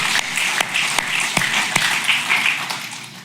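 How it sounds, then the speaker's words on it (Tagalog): Church congregation clapping together in praise of God, a dense, steady wash of applause with a few sharp louder claps standing out, sustained and fairly close throughout. "bigyan muli ng isa pang papuring palakpak ang Diyos"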